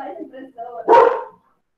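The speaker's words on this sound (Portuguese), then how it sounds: "ligou sem querer, só para o cachorro latir" A dog barks loudly over an open microphone during an online economics class, a single burst right after a stretch of muffled talk.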